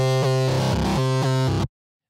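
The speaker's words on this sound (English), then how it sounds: "A distorted keys sound," Distorted synthesizer keys played dry, without a guitar amp: a buzzy, harmonically dense chord pattern in short rhythmic stabs and shifting chords, loud and close, ending in sudden silence.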